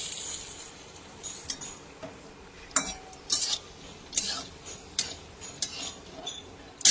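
Fried pointed gourd (potol) lifted out of a pan with a spatula: a series of sharp metallic scrapes and clinks at irregular intervals over a low background hiss, close and fairly loud, without speech.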